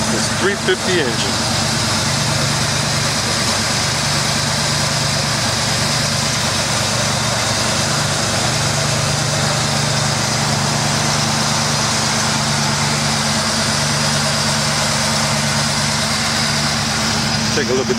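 A 1940 Chevrolet Coupe with a 350 engine idles at a cars-and-coffee meet, giving an even, unbroken low rumble for the whole stretch, with voices faintly present around it.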